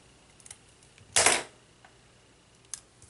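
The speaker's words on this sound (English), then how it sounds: "I'm going to take my scissors and I'm going to cut him in half." Scissors snip once through a small planner sticker, giving a short, sharp, close cut in a quiet room, with a few faint ticks before and after.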